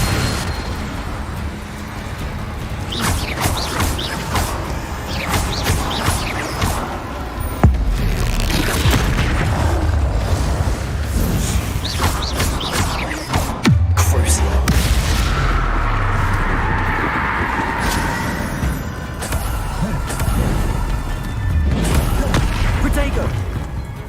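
Confringo spell blasts in the Hogwarts Legacy video game, a series of loud booming explosions that punch through a dense rumbling backdrop of game sound, with a few heavier impacts standing out.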